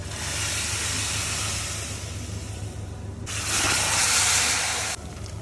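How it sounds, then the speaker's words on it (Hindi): Hot tadka poured into a pot of green hariyali dal sizzles loudly in a steady hiss, jumping to a brighter, harsher burst for a couple of seconds before easing back, with no talk. "और ये सारा तड़का डाल देंगे हम अपनी दाल में।"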